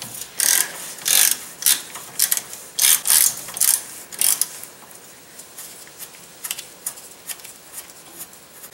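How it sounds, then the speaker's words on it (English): A 15/16 socket and ratchet loosening the lower ball joint nut on a 2wd Dodge Dakota, giving repeated close bursts of ratchet clicking that grow softer and sparser toward the end, no speech. "Loosen the lower ball joint nut using a 15/16 socket and ratchet."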